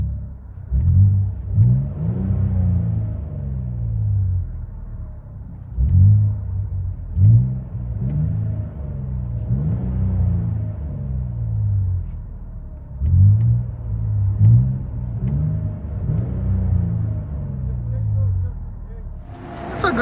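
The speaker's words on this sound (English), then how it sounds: "I'll let you guys hear on the inside." A 2021 Nissan Frontier with a 3.8L V6 and a 14-inch Magnaflow muffler rumbles from inside the cab, its low exhaust tone swelling in repeated rev surges between steadier cruising stretches.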